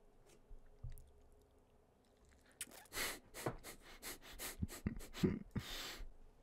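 Crunchy puffed duszki crisps are chewed close to the ear in a run of quick, uneven crunches and sniffs that grow louder toward the end.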